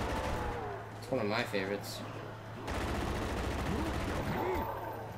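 Gunfire from a weapon in Call of Duty Zombies, bursts of shots rattling under a steady game backdrop while a person talks over it.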